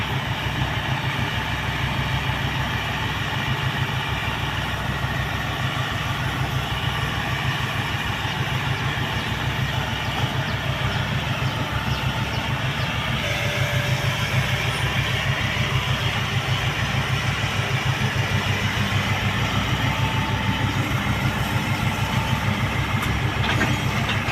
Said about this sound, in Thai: โอ้มันนี่เร่งเครื่องเต็มกำลังเลย